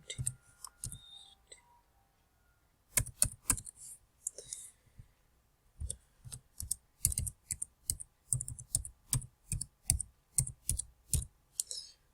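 Typing on a computer keyboard, with close, crisp key clicks in bursts separated by pauses, then a steady run of evenly spaced keystrokes toward the end.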